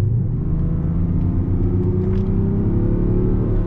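A BMW 7 Series 750d long-wheelbase diesel accelerates hard from 65 km/h in sport mode, a loud, steady deep engine drone rising slowly in pitch, heard from inside the car without talk.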